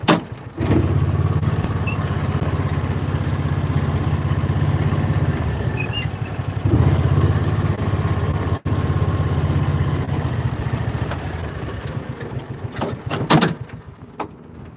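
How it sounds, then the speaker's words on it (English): A Gator utility vehicle backs up toward a pile, its engine holding a steady low idling rumble throughout. A few knocks and clunks come near the end, with no talking. "back the gator up to the pile"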